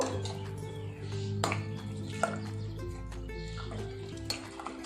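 Salt being stirred into mutton in a pot: a spoon scrapes and knocks against the pot in a few sharp clinks over a low background hum, close and fairly quiet.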